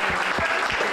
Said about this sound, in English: Can we also give Audra a round of applause really quick?